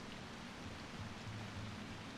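Steady rain hisses as an even wash of noise in Wild Hearts, with no breaks.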